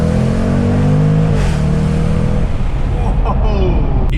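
A 2022 Jaguar F-Pace SVR with 700 Nm of torque accelerating hard from inside the cabin, its engine droning loud and steady with a rising pitch and a gear change midway, continuous and close.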